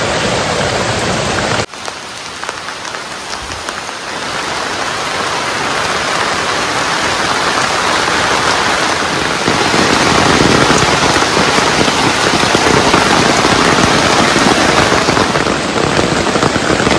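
Heavy rain pours steadily around an outdoor village kitchen on a rainy day, a dense continuous hiss of drops on surfaces, loud and unbroken after a brief lull near the start.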